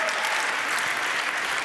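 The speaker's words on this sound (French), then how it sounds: "Oui, on peut les applaudir aussi." Dense applause from a show audience near a bar fills the whole stretch, steady and fairly loud with no voices rising above it.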